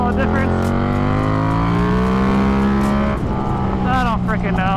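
A 2024 KTM RC8c motorcycle engine roars steadily while riding, its pitch climbing through the gears, with a shift and renewed rise near the end, loud and close with wind noise.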